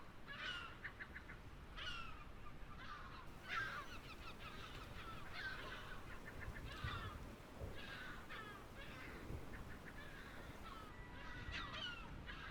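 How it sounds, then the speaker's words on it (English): Gulls call repeatedly at a Devon seaside as the tide goes out, harsh cries coming in bursts one after another, some near and some farther off, over steady low wind or surf noise with no talking. "the gulls are out in force this afternoon"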